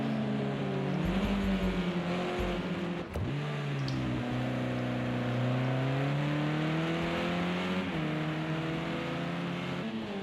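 Touring cars racing in Project CARS 2 during a championship feature race, engines droning and rising in pitch through gear changes, a steady loud whine with overlapping cars, close and continuous.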